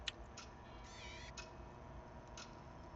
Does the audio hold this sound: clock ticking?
yes